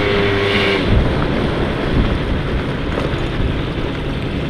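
A small scooter-style moped engine after a major rebuild, heard while riding: a steady, loud, continuous drone with broadband wind rush, no talk over it.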